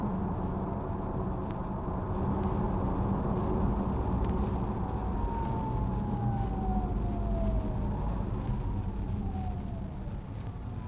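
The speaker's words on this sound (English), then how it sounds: "That's the fake engine sound, or even a fake regen sound." Synthetic engine sound from an Audi e-tron GT electric car, a steady hum with a rising and falling whine, heard from inside the cabin while driving, continuous and fairly loud, with no talk.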